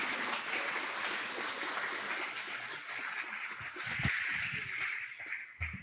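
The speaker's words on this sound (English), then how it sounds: "please a nice round of applause for our speaker today, Colin Murphy." Audience applause at a hybrid Rotary club meeting, welcoming a guest speaker: a steady, dense clapping sustained for about six seconds at an even level, with a few louder claps near the end.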